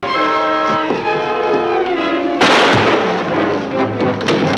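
Gunfire in a scene from a Superman TV episode, with a loud sharp shot breaking in midway over a sustained tonal background, followed by ringing noise.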